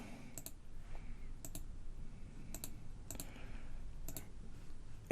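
Crisp computer mouse clicks come in spaced pairs, about five double clicks, sharp and close over a faint room hiss, with no talking.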